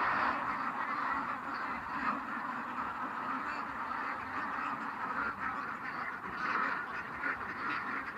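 A large flock of ducks at a duck farm quacks continuously, a dense overlapping chorus at close range with no pauses, while someone talks faintly in the background.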